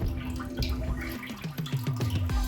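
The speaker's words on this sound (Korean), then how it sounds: "노즐 세척 같은 경우는 이제 기본적으로 이제 물이 나오면서 이제 노즐을 세정해주는 기능이라고 보시면 되세요" Water runs and drips steadily as an electronic bidet flushes and cleans its nozzle, with a low hum and a series of short, descending splashy pulses, close and fairly loud.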